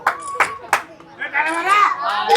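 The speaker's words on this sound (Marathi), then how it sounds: "जोरदार टाळ्या." A few sharp hand claps at a prize-giving for small children's games, three distinct claps in quick succession followed by people talking nearby.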